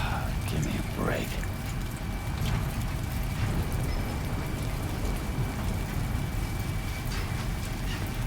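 Steady rain falls in the video game Death Stranding 2, a dense, continuous hiss of drops hitting surfaces, loud and even throughout, with no talking.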